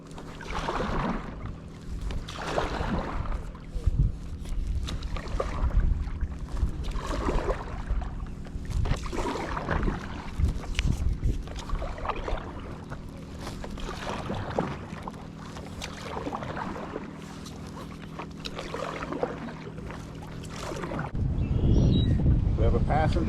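An inflatable 15-foot Freein tandem stand-up paddle board being paddled on open water by two riders, with repeated, rhythmic splashing paddle strokes under steady wind buffeting the microphone.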